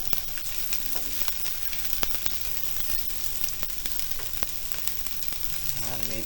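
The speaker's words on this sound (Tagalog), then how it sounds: "Sasabay ko na rin itong ating bawang. Igisa lang natin mabuti." Garlic sautéing in a pan after onions, a steady close sizzle and hiss of frying with occasional stirring clinks, and a brief voice near the end.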